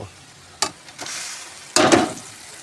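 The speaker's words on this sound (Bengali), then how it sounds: "আলুটাও মশলার সঙ্গে এখন দিয়ে দেবো।" Potatoes drop into spice paste frying in a pan, giving a few short bursts of sizzling and stirring, with a louder, longer hiss near the end of the stretch.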